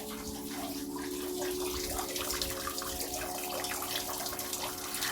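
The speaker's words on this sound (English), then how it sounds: "hearing that water flowing. When you look, it's flowing against rocks." Water from a garden water feature flows steadily over rocks, a continuous close, full rushing splash with no pauses.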